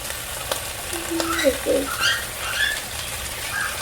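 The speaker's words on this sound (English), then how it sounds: "So you're just gonna put the garlic in on top of the oil." Garlic hitting hot oil in a pan gives a soft, steady sizzle with light crackling and a few small pops, close by with no talking.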